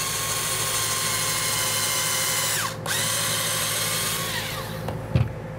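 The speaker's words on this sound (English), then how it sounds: "I use a 3/32 drill bit to drill my pilot holes with." A power drill with a 3/32 bit whirs steadily at close range drilling pilot holes in wood, its pitch dipping briefly once as it bites, then a short clunk as it stops.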